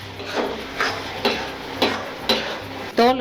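A spoon stirs tomato thokku, a thick curry of peeled tomatoes, in a pan, making about six rhythmic scraping strokes roughly every half second over a soft background sizzle, with a brief voiced sound at the very end.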